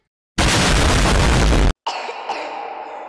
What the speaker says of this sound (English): Stop coughing, freak!